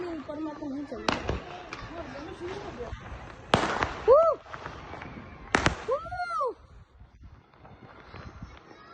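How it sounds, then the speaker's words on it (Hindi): New Year fireworks and firecrackers burst from both sides, several sharp loud cracks and whistling rockets in the open air, with excited voices talking and cheering between the bangs. "दोनों तरफ एक टाइम पे पटाखे।"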